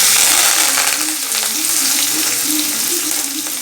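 Green chili, curry leaves and onion fry in hot oil for a potato puttu dish, a loud, dense, continuous sizzle with faint crackles close up.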